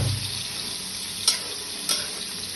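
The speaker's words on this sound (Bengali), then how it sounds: "আর এই দেখো মশলা কষাচ্ছি ভালো করে কষে মশলা কষা দিচ্ছি" Spices sizzling and frying in a pan while being stirred, a steady close hiss with two brief scraping clatters of the stirring utensil, no talking.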